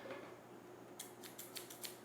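Scissors snip through material in a quick series of about six crisp cuts, close and clear over a quiet background hum.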